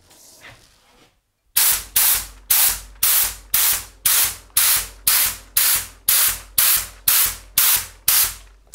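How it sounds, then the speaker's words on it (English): An HVLP spray gun with its fan opened fires in a regular series of short hissing bursts, about a dozen evenly spaced blasts, close and loud after a quiet start. "So try it first to open the fan, okay, and then try to spray."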